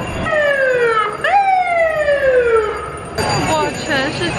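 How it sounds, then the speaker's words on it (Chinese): Police car sirens wail loudly through a San Francisco street during a Christmas-time parade, several rising and falling sweeps overlapping with traffic noise, then a faster yelping pattern near the end. "哇，全是警车，太吓人了。"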